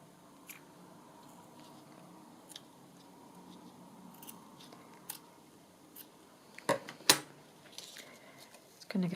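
Scissors trim a piece of paper for a journal page, giving a few faint snips and rustles spread out over quiet room tone, with a couple of sharper, louder cuts near the end.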